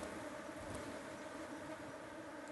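Honey bees shaken off a honeycomb during a hive inspection at an apiary, giving a steady, faint, even buzzing hum with no voices.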